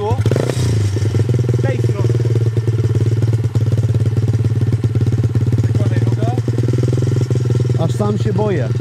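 A motorcycle engine idles and revs steadily and close by during a beginner's first riding lesson, a loud continuous low rumble throughout, with people talking over it.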